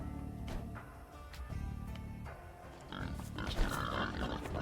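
A wild boar grunts and snorts in Age of Empires 2: Definitive Edition, the grunting layered over steady in-game ambience and other game sounds.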